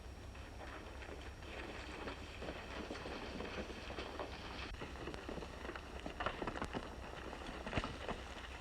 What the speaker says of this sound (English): It's old Dobie on a horse.